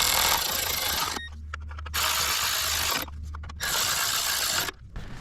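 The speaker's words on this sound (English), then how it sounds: "We're gonna put the bolts back. Snug them down, nothing crazy." Ratcheting bursts snug down bolts on the valve covers of a Nissan 4.0 V6 engine from a Pathfinder, Xterra or Frontier, with loud clicking runs separated by short pauses, close up.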